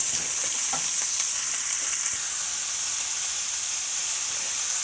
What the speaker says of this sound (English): I'm going to break these up and saute them for probably about 5 minutes